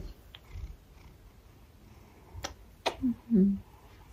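A small black cat purrs softly up close, with a few short throaty chirps near the end over quiet room noise.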